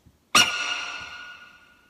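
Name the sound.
monkey sound sample used in music track drop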